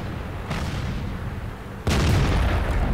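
Tank cannon fire in World of Tanks, with a loud booming shot cutting in suddenly over steady game noise and a second burst of rumbling blast energy following; no voices.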